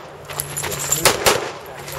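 Gunfire at a shooting range: a quick cluster of sharp shots cracks out mid-clip at moderate distance against a background of low outdoor noise.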